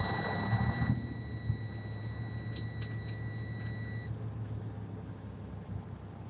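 Truck idling while it builds up air pressure, a steady low engine drone with warning beeps and tones sounding over it during the first few seconds before they stop, leaving the engine running alone.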